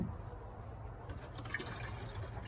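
Plain rainwater poured from a bucket over young garden seedlings, a quiet continuous trickle and splash of liquid at close range, with no talk.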